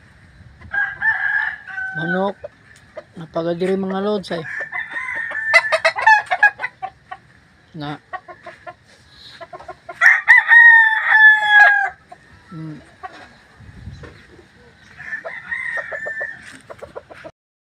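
Backyard chickens and a hen clucking at close range with a rooster crowing loudly several times, calls scattered across the stretch with someone speaking briefly between them.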